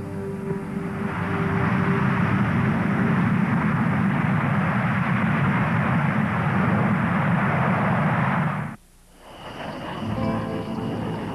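A fighter jet roars past loud and close, a dense sustained engine rush holding for about eight seconds before cutting off sharply and then returning more faintly.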